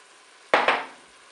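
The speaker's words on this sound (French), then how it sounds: "Je mélange." A spoon stirs rice and leeks inside a Cookeo multicooker pot, giving two quick, close knocks against the pot walls, then quiet.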